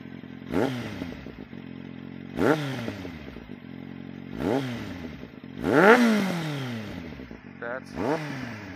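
A Kawasaki Z750 motorcycle engine cranks and fires, then idles and revs up in several distinct bursts that fall back, loud and close, with a mechanical rattle between revs.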